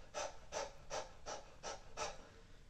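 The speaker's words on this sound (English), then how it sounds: "we're going to start that by panting like a dog" Rhythmic breathy exhalations, six quick panting puffs at an even pace, done like a dog as a breath-of-fire breathing exercise for addiction recovery. Close and quiet, with no talk.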